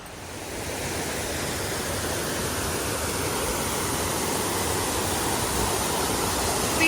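Cedar Rock Falls waterfall heard up close: a loud, steady broadband rush of falling water, unbroken and unchanging throughout, with no voices.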